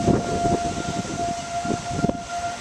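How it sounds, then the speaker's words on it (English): A tornado siren wails steadily in the distance during a storm in Wells County, a sustained held tone heard over a rumbling, gusty outdoor background. "So a tornado siren is going off."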